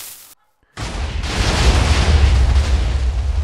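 A TNT trap in Minecraft goes off after a brief moment of silence, bursting into a loud, deep, rumbling explosion that roars on steadily to the end.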